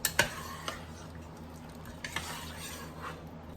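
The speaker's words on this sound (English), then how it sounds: "Now we will mix that all together as well." Beef stroganoff ingredients and meat are stirred together in a crockpot, soft scraping swirls punctuated by a few sharp utensil clicks against the pot, quiet and close.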